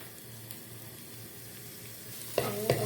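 Onion and garlic sauté in a small amount of reused frying oil in a pan, giving a steady close sizzle with a couple of sharper utensil knocks and stirring clatter near the end.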